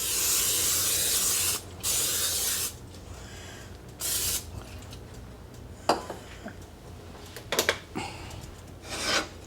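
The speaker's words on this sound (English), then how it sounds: "Next, we're going to grease our pan" Oil sprays from a can to grease a casserole pan. It comes as several hissing bursts, a long one first and then shorter ones, between quieter rubbing and scraping.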